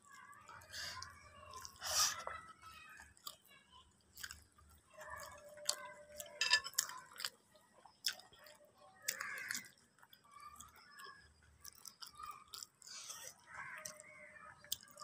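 Close chewing while eating rice with mashed potato (alu bhorta) and pickle, with soft wet smacks and small crunches in irregular bursts. A faint voice murmurs now and then.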